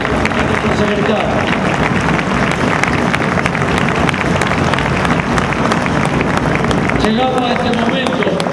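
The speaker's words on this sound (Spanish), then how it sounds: "pido un aplauso fuerte para todo el equipo internacional" A conference audience at a national union congress applauds loudly, with sustained dense clapping and crowd noise filling the whole stretch, and voices briefly audible over it near the end.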